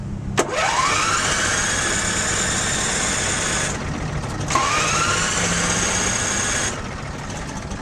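A Generac V-twin generator on a 1999 Monaco La Palma RV cranking and catching twice, each time whining up into a loud steady run before cutting off, close and with no voices.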